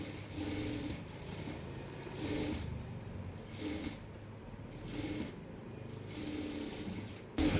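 A sewing machine stitches a nightie with a steady, close whirring hum that pulses in short bursts as the fabric is fed, continuous throughout with no talking.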